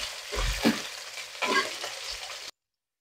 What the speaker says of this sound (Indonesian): Kita tumis.